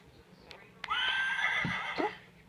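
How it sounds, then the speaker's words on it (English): A horse whinnies once, loud and close, in a long descending neigh with a shaky tail, after two short knocks, as part of a children's farm-animal lesson. "Here's the horse."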